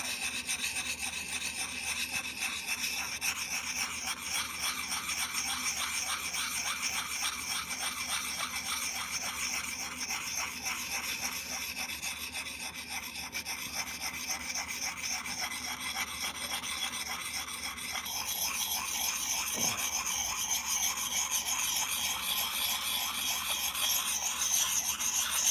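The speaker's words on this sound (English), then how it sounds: "There's no substitute for patience with grinding by hand" A steel axe blade rasps against a Hults Bruk axe puck in steady back-and-forth strokes of hand sharpening, up close and continuous with no talking.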